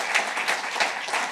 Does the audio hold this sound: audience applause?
yes